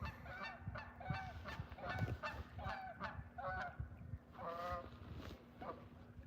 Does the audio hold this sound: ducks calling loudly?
yes